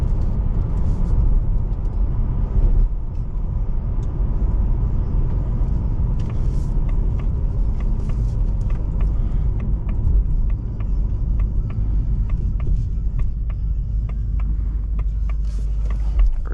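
A 2024 Ford Mustang GT with the 5.0 V8 cruising in fifth gear around 1500 RPM, a steady low engine rumble with road and tire noise filling the cabin at constant volume, no talk.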